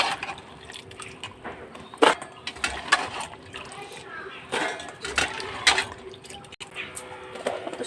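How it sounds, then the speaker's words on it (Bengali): Jujube berries are washed by hand in cold water in a pot, with splashes, drips and clattering knocks of fruit against the metal coming in irregular bursts close by. "প্রথমে ঠান্ডা জলে দিয়ে কুলগুলো ভালো করে পরিষ্কার করে ধুয়ে নিতে হবে।"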